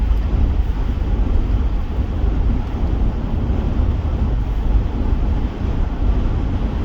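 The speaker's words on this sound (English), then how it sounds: "This darn wind is just, it's a blowing." Strong wind blows hard across the microphone on an open road trip from Colorado to South Dakota, a loud, constant rumbling roar with no pauses and no voices.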